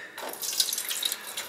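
Tap water runs steadily into a jug being filled for a Drinkwell Zen pet fountain, a close hissing splash with no talking.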